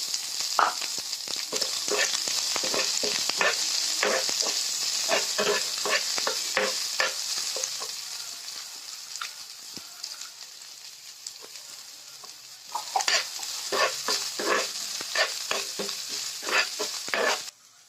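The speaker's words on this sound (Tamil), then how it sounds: "பொடியா நறுக்கின வெங்காயம் சேர்த்து வதக்கிக்கலாம்." Steady close-up sizzling of finely chopped onions in a hot pan with tempered curry leaves, punctuated by rhythmic scraping and stirring strokes, briefly quieter midway before the sizzle surges again.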